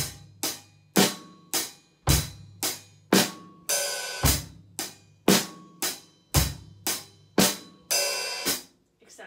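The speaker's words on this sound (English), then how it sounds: "we have a hi-hat open at the end, and the rest of the notes are just going to be closed" A drum beat repeats in a steady pattern of sharp closed hi-hat ticks and kick hits, with a longer hissing open hi-hat at the end of each phrase, played loud and up close with no talk.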